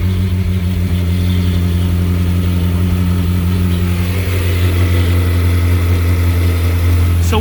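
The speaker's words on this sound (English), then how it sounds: "let's see how this engine sounds and runs, and then we're going to try and let it idle for at least a minute or two" A salvaged Ferrari engine idles steadily, a loud, even low drone with strong harmonic hum that holds without revving for the whole stretch.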